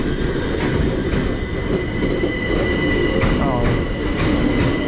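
A class 378 electric train departs Willesden Junction in London, loud and close, its wheels rumbling steadily on the rails with a brief squeal, while a person exclaims briefly.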